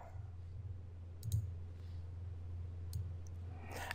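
A computer mouse gives two faint, sharp clicks about a second and a half apart over a low steady hum in a quiet room.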